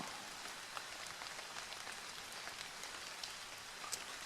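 Steady rain patters on leaves and the ground in Scottish woodland, a soft, even wash of drops with occasional sharper taps and no voices.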